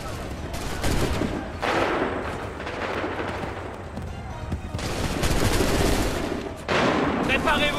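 Musket volley fire rolls through a battle in Assassin's Creed 3, with repeated loud bursts of massed gunshots and booming blasts separated by brief lulls, while shouted commands carry over the din.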